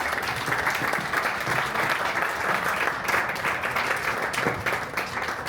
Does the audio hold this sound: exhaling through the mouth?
no